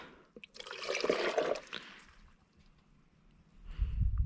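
Water pours and splashes onto seed starting pots for a couple of seconds, then trickles quietly before a low rumbling gush returns at the end.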